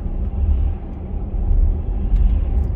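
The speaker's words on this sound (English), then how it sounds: "There's only so much tarmac and then it goes to that rumbly bit" Tyres of a Mercedes ML350 rumble over a rough road surface in the New Forest, a steady low droning roar from inside the car that continues without break, with no voices.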